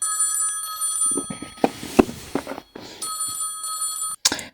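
A red toy telephone in a Playmobil story rings in loud repeated electronic trills, with short pauses between bursts and a few sharp clicks and knocks mixed in.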